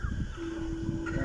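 Backyard chickens around four to five months old make soft clucks and a brief higher call among low farmyard background noise, moderately close.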